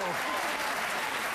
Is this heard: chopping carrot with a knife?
no